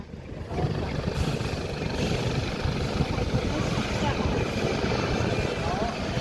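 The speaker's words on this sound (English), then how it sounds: "holding that helicopter in a beautiful weather, making it look so lost and easy" A US Coast Guard HH-65E Dauphin helicopter hovering at an airshow on a clear day, giving a loud, continuous rotor and turbine roar that holds steady throughout.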